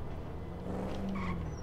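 A 2015 Impala in a GTA video game drives and skids, a steady engine rumble joined by a brief, moderately loud tire squeal partway through.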